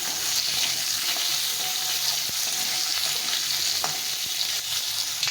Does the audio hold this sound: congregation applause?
no